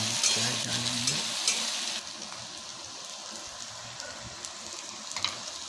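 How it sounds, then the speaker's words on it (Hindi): Spice paste fries in a pan for an aloo gobhi soybean dish, giving a bright sizzle that is loud for the first two seconds and then settles to a quieter, steady hiss with occasional soft scrapes. "पेस्ट थोड़ा सा भूंजें"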